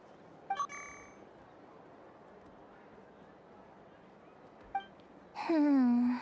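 Small robot character in the video game Genshin Impact giving short electronic chirps and beeps, two brief bursts early and a longer warbling, sliding tone at the end over a quiet game background.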